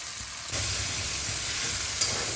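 Chopped tomatoes and salt added to a cooked spice masala in a pan for a vegetarian drumstick and lentil-fritter dish, giving a steady close frying sizzle that swells louder after the first half second and continues evenly.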